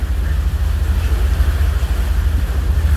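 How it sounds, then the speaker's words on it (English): Boat slowly cruising on the Otonabee River, a steady low engine rumble with a broad wash of water and wind noise, continuous and fairly loud throughout with no talking. "So slow cruising on the Otonabee River."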